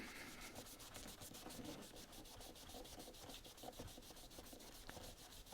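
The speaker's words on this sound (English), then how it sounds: "sand a bit harder here." Hand sanding on a Turner 4 1/2 smoothing plane, a quiet, close rhythmic scrubbing with regular back-and-forth strokes, heard alone throughout.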